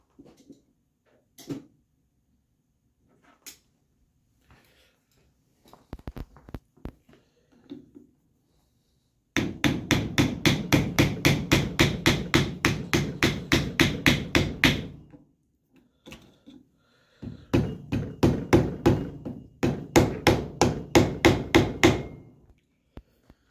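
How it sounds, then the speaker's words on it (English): A hammer taps at the motor rotor bearing of a DeWalt 12-inch compound slide miter saw: scattered single knocks, then two long bursts of rapid, evenly spaced sharp metallic blows, close and loud with quiet gaps between and no talk. "I don't happen to have one with me, so we're going to try the tapping it method"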